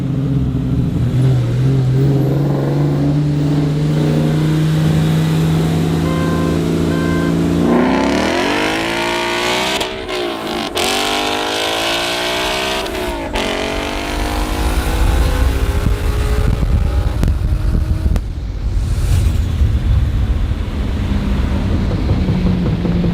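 A Toyota Supra engine winds up hard in first gear, a loud steady drone that climbs sharply in pitch, then surges through repeated revving sweeps and rough bursts, close and continuous with no voices.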